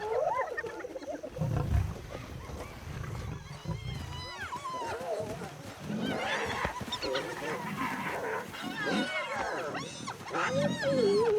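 A lion pride and a hyena clan battling over a kill in the wild: a chaotic, continuous mix of deep roars, growls and high yelping whoops, with overlapping calls throughout.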